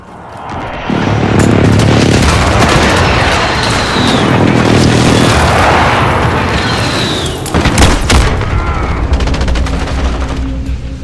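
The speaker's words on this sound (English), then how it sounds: "Enemy precision airstrike, take cover!" Explosions from a precision airstrike boom alongside sustained gunfire in a Call of Duty: Modern Warfare Headquarters match, loud and dense throughout with a sharp blast near the eight-second mark.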